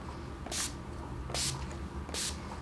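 Makeup setting spray is misted onto a face in three short, soft hissing bursts spaced evenly about a second apart, close and quiet over a faint room hum.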